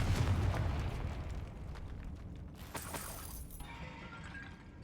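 In Hogwarts Legacy a Confringo blasting spell erupts with a deep boom up front, then a fading rumble with a sharp crackling burst near the end, heard on its own without speech.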